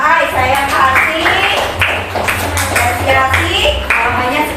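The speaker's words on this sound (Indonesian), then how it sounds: "Tepuk tangan untuk Mbak Ai." Classmates clap together for a student in a classroom, a dense burst of hand claps that stays steady over several seconds, mixed with children's voices talking over it.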